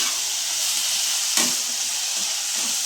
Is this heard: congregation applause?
no